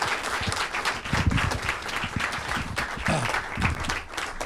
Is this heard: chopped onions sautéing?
no